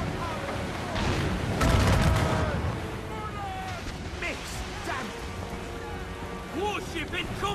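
Booming ship cannon blasts go off amid chaotic naval battle noise in Assassin's Creed Rogue Remastered, with shouting voices and whistling, swooping effects layered over the rumble.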